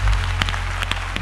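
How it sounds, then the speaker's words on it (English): Crowd clapping hands at a church service, a brief burst of dense, loud applause up close. "Clap your hands."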